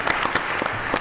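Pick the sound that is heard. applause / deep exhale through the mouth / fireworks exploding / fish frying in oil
applause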